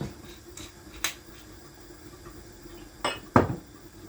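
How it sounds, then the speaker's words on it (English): A metal pot handled on a stovetop while cooking oil goes in for callaloo rice, with a few sharp clanks and clinks spaced apart, the loudest two near the end, over a faint kitchen background hum. "now we're going to go ahead and add some oil to our pot"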